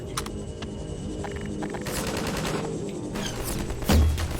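Magnum revolver fired repeatedly in Half-Life 2, several sharp shots spread across a busy, dense game soundscape, with one heavier low boom near the end.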